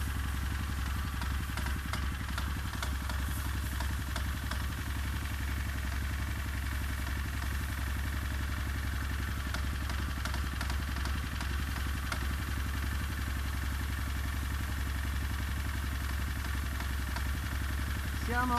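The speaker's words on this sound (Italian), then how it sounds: "Sentite il rumore del motore che sta lavorando al minimo." A Loncin 4 HP engine driving a Comet MC 25 sprayer motor pump idles steadily outdoors, a constant low throbbing hum with faint clatter and a person talking over it.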